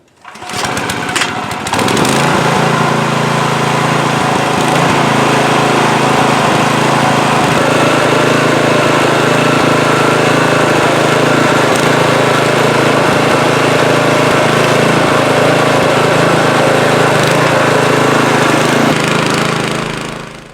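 A Husqvarna TR317D rototiller is pull-started, and after a short sputtering catch its engine settles into a loud, steady, close running drone that holds for many seconds before cutting off.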